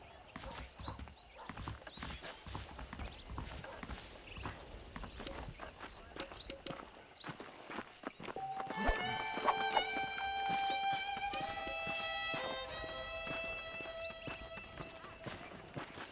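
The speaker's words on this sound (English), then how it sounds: "The horses are saddled up over here." Steady clip-clop of horse hooves in the video game Red Dead Redemption, over a noisy outdoor ambience, with a brighter musical layer joining partway through.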